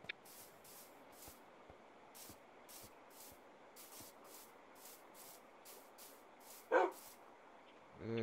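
In the video game Minecraft, a quiet stretch of faint, regular pulses is broken by a single short dog bark, followed by a brief rising noise at the end.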